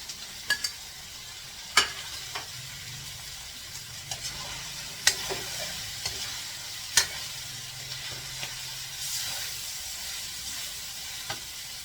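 Vegetables, with carrot, fry in a pan with a soft, steady sizzle, broken by several sharp clicks and scrapes of stirring, close and fairly quiet.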